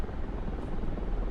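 Mi-24 Hind helicopter in a video game, a dense continuous rotor and engine rumble, loud and steady with no voices over it.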